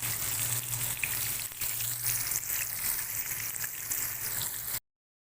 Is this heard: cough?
no